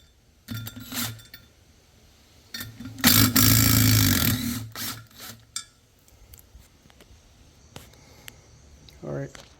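A power impact gun zips off the 10 mm bolts on a two-piece brake rotor from a 2014 Infiniti Q50S with Akebono brakes, loud rattling bursts with a sustained run in the middle, between quieter clinks of tools and parts.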